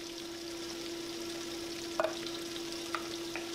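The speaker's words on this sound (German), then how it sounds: "Immer gut umrühren." Bell peppers sizzle steadily in a pan under a constant low hum, with a few soft scrapes and clicks as they are stirred.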